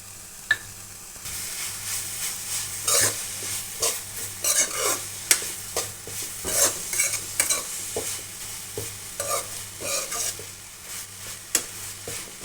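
Grated carrot being stirred and roasted in ghee for carrot halwa, with a steady sizzle and repeated scraping stirs across the whole stretch, close and fairly loud, no voices.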